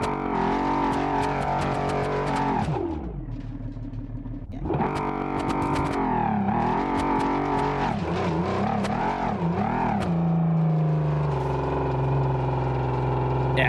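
Engine of a modded Volvo S60R in a driving simulator game, a harsh, loud drone that revs up and down repeatedly, dipping briefly before climbing again.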